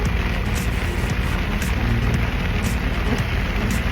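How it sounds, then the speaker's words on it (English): Steady rain patters on a Jeanneau Sun Odyssea 409 sailboat, a dense even hiss with occasional sharper drips, continuous and fairly loud throughout. "We knew we were back in good old Blighty because it started raining."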